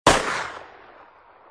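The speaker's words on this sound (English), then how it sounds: "Making a racket like a starting pistol, right outside our..." A single sharp, loud crack like a starting pistol rings out in an audiobook sound effect, then decays into a fading echo over about a second.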